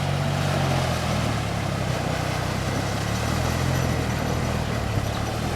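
A walk-behind tractor ploughing a flooded rice paddy, its engine droning loud and steady with a low, throbbing chug throughout and no speech.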